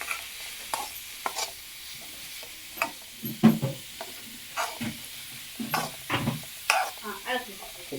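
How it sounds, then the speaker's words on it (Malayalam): Chicken masala paste is stirred in a pan, heard as a low sizzle broken by irregular scraping and tapping strokes of a spoon against the pan, close by. "നന്നായിട്ട് ഇളക്കി കൊടുക്കുക"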